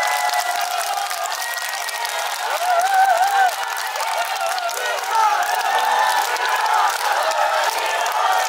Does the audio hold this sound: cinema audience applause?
yes